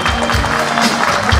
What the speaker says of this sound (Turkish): alkışlar bak seni bekliyor